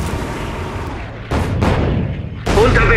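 Heavy booms and bursts of gunfire and artillery from the World War II strategy game Codename Panzers Phase One, loud close blasts rumbling in and out with short gaps between them.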